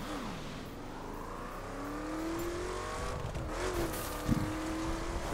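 A car in The Crew video game drives along railway tracks, its engine whining at steady revs with pitch sweeps as it shifts and accelerates, and a short thump or clatter partway through.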